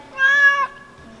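A cat gives one clear, drawn-out meow in a workshop, close and loud, then falls quiet.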